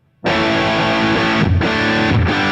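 Electric guitar through an overdrive pedal at full saturation with the volume pedal fully down, playing thick, heavily distorted sustained chords; loud and close, restruck twice, no voices.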